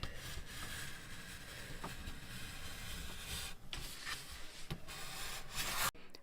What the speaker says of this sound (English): I'll make a second cut that will go through a little bit more